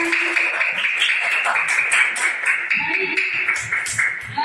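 Schoolchildren in an Indonesian classroom clap for a student group, a steady patter of many small hands close by, with a voice and children's chatter over it.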